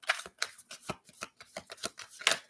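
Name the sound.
shuffling cards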